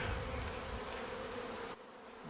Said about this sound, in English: Now we're gonna come over here and shake the remaining bees, not that many, into this hive.